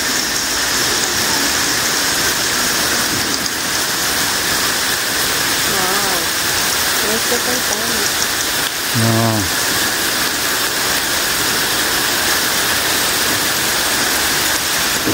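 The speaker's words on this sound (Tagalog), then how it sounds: "Malakas-lakas po ang agos ngayon pagpasok namin dito sa Underground River kasi ang lakas ng ulan, nag-high tide." Strong river current rushing through the Underground River after heavy rain, a steady loud wash of water filling the whole stretch, with a brief exclamation and faint voices over it.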